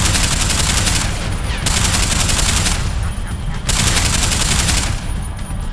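Loud, dense automatic gunfire in the video game Deus Ex: Human Revolution, continuous and close, with sustained bursts and slight dips in intensity between them.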